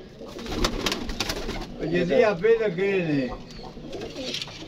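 Pigeons coo in soft, low, throaty warbles close by, with some rustling and a voice faintly underneath.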